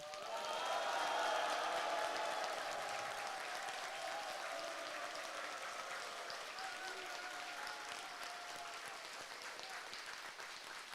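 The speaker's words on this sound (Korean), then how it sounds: "우리 큰 함성과 박수 한번 부탁합니다." Prolonged applause and cheering from a large crowd at a Buddhist all-night practice dharma assembly, loud at first and then gradually fading.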